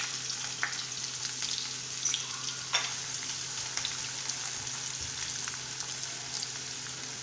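Chopped onions fry in hot oil inside a pressure cooker for beef biryani, giving a steady close sizzle with occasional sharper pops and spatters throughout.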